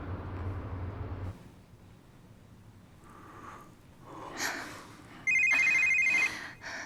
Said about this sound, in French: Oh, toi et ce satané téléphone, ne réponds pas.